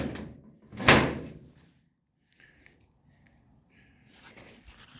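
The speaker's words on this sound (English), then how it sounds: "But the door opens and closes really good now," A 1937 Dodge car door with freshly patched bodywork gives one sharp, close thunk as it swings shut, followed by quiet workshop rustling and faint clicks.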